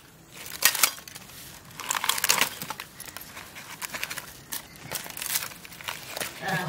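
Fish cooked the traditional Konkani way is broken open by hand in bursts of close crackling, crunching and crinkling, with voices murmuring in the background.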